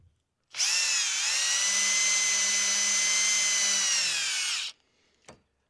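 A power drill whines steadily for about four seconds, close and loud, driving a screw into the metal of a camper slide, then stops abruptly with a brief clunk afterward.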